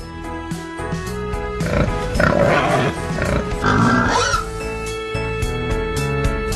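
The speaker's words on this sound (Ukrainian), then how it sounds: "Свиня." A domestic pig grunts and squeals in a short burst midway, set against steady background music.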